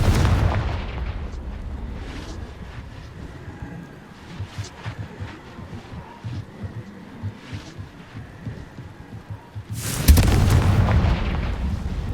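Confringo spell explosion in the Hogwarts Legacy video game: deep booming blasts, with a series of rumbling thuds and a loud burst near the end that leaves a low roar, no speech.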